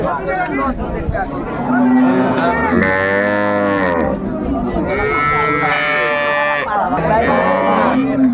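A dairy cow moos loudly and close up at Raniganj cattle market in Dinajpur, two long drawn-out calls, with people talking around it.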